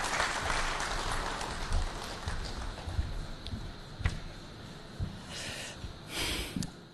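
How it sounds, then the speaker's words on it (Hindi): Audience applause at a political forum stage in India, greeting Akhilesh Yadav as he comes up, with dense clapping from a large crowd going on steadily for several seconds and scattered louder claps. "आइए अखिलेश जी, तालियों से स्वागत करें अखिलेश यादव जी का।"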